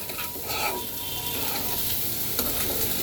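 Boiled potatoes are stirred into a fried spice masala in a pan, with steady sizzling and scraping of a spoon through the thick mixture, close and continuous.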